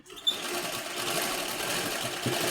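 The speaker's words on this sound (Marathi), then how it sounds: "थोडीशी आणि पुढेपर्यंत शिलाई घ्या थोडीशी जेणेकरून इथलं पटकन निघणार नाही" A sewing machine stitches a fall onto a saree, running as a close, continuous mechanical whir after a brief start.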